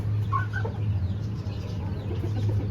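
Aseel chickens cluck from inside a cage, a few short calls early on over a steady low hum, with no talking.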